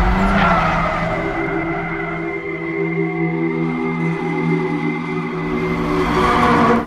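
Tires squeal and skid without a break as cars drift down a mountain road in an action film, loud and close, with engine drone running under the long screech.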